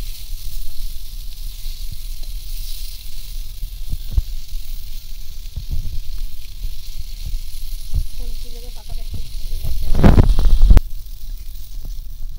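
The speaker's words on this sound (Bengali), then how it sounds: "সব একদম দুদিকই খুব ভালো করে একদম ভাজা হয়ে গেছে।" Ash gourd leaf parcels stuffed with prawn fry in hot oil in a pan, a steady low sizzle broken by scattered pops, a short voice and a louder clatter near the end.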